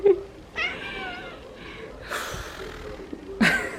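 A house cat meows several times at close range, a sharp cry at the start and more calls later, with breathy snorts and quiet room noise between them.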